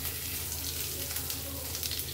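Cumin, nigella seeds, dried chili and panch phoron fry in hot oil in a home kitchen, a soft steady sizzle, faint and even, with no voices.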